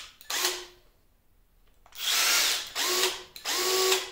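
An impact driver drives lag bolts into pilot holes in wood: a short whirring run, a pause, then three loud buzzing bursts, the last two with rapid hammering impacts, close and alone without talking.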